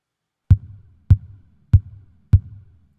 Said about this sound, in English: The next one is a microphone stomp box.